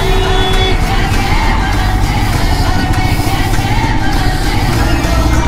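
Dense road traffic surrounds a motorbike ride out of Mumbai toward Rajasthan, a steady loud engine and road roar with horn-like tones continuing throughout, heard close with no gaps.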